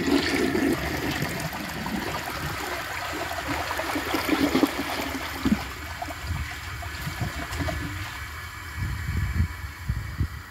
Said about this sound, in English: let's give it a flush and see how it does